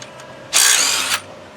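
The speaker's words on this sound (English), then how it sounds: "So will the DeWalt get the head bolts off?" DeWalt power tool loosening a head bolt on a Land Rover 300Tdi engine: a single loud, close whirring and rattling burst lasting about half a second over faint background noise.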